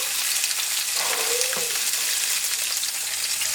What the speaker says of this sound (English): now I'm going to add my tomato